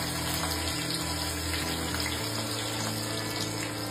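Cumin and chopped onion fry in hot oil for vegetable khichdi, giving a steady, close, even sizzle throughout with no voices.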